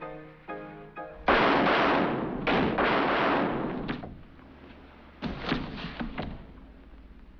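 Gunfire in the 1942 comedy film Roxie Hart, set in an apartment building: several loud, sharp blasts with ringing decay, the first around the middle of the clip and a tight cluster of bursts later, over a low background.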